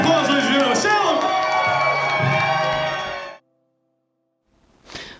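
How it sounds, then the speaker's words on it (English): A crowd cheers and whoops loudly for several seconds at a cider makers' gathering at CiderCon 2020, then cuts to silence before a brief burst of voices. "Big round of applause, ladies and gentlemen."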